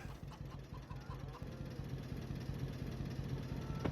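Vintage tractor engine in Farming Simulator 25 running steadily at a low idle, a constant mid-pitched drone with faint rhythmic knocking and no voices over it.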